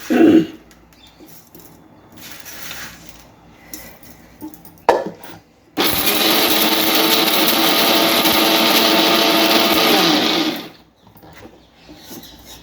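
A mixer grinder whirs loudly and steadily for about five seconds while grinding dried red chillies and spices, preceded by short clatters and a brief burst, then stops abruptly.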